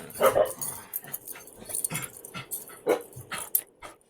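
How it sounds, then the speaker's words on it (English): A dog barks repeatedly from somewhere below, the yaps and whimpers scattered and fairly faint amid household background noise. "That is Taco being jealous down there barking."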